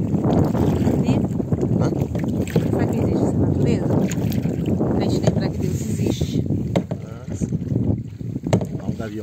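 Wind buffets a small boat drifting on the Tietê river, gusty rushing noise with water movement close by, and people talk over it.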